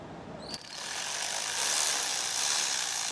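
A ratchet whirs steadily and close while backing out a bolt on a 2026 Aprilia RSV4 motorcycle, opening with a sharp click and then a continuous buzzing spin for about two and a half seconds.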